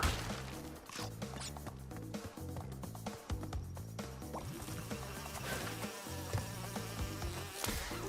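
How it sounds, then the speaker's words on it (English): Buzzing swarm of bees in the Crash Bandicoot N. Sane Trilogy game, a steady insect drone mixed under busy game music and effects throughout, with no voices. "I hate those bees because it looks like they catch up so fast"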